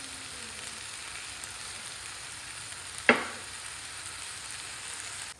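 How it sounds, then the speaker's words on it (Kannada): Onion frying softly in a pan at home, a steady low sizzle throughout with a single sharp clatter or scrape partway through. "ಆನಿಯನ್ ಸ್ವಲ್ಪ ಫ್ರೈ ಆಗಿದೆ"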